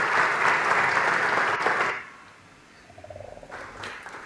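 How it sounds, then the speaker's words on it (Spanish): A burst of audience applause at a talk on the Internet of Things and Industry 4.0 lasts about two seconds and fades out, followed by quiet room noise. "Con ustedes, Teo, un aplauso por favor."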